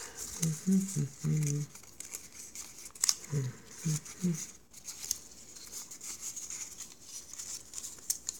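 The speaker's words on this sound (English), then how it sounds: "Then you unfold the piece of paper." A cut piece of paper is unfolded with soft crinkling and rustling, faint and close, while someone speaks in short phrases over it.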